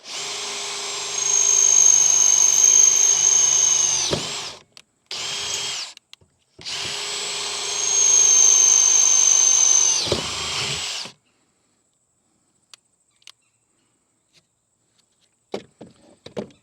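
A power drill with a 5/16 bit bores a hole during a Freedom Launcher install on a Frontier 12 kayak: a loud, steady whine runs about four seconds, stops with brief blips, then drills again for about five seconds before faint clicks.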